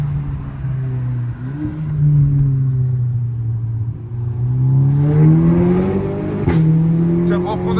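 Modified Volkswagen Golf 6R engine revving and accelerating on a road, a loud rumbling drone rising and falling in pitch through gear changes, heard from inside the car with people talking over it.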